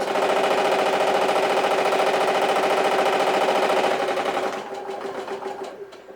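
A sewing machine runs steadily, stitching fabric for a purse, with a loud continuous mechanical whir that slows and thins out toward the end.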